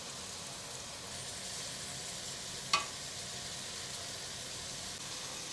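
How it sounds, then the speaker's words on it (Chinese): Taro and oat cakes pan-frying in oil, a soft steady sizzle with a single sharp click midway through, quiet and with no voices. "所以可以这样不定时的翻滚，让它每一面都煎出均匀的颜色"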